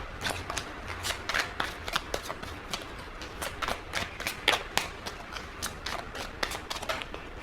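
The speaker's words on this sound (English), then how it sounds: "It's already been 3 minutes and I've already still been shuffling." A deck of tarot cards is shuffled continuously by hand, making rapid, rhythmic riffling and slapping bursts throughout, close and fairly quiet.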